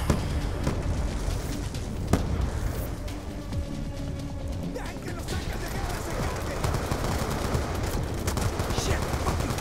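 Turret gunfire rattles constantly in a Call of Duty Black Ops 2 campaign firefight, mixed with dense bursts of other weapons and blasts at close range.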